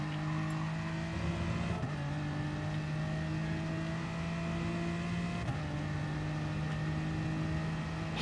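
Gr.4 race car engine in GT Sport during an on-board lap, a steady sustained engine drone holding pitch with a couple of brief gear-shift dips, loud and continuous with no talk.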